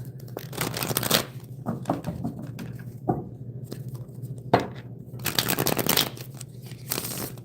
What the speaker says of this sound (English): Oh my gosh, why do your cards want to shuffle?